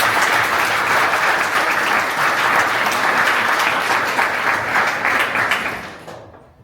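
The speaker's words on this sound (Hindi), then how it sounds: "एक बार बच्चों खुद के लिए जोरदार तालियां" An audience at a district-level youth panchayat event claps loudly for a children's performance, a dense, steady burst of applause that holds for several seconds before tapering off at the end.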